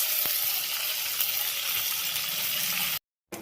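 Leaves frying in a pan for a home-cooked dish, a steady close sizzle with faint stirring, running alone for about three seconds before cutting to silence.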